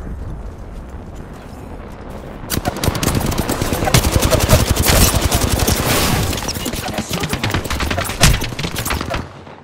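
Rapid automatic gunfire in the Apex Legends battle royale game bursts in after a quiet start, a dense, loud stream of shots that rattles on with slight variations before cutting off sharply at the end.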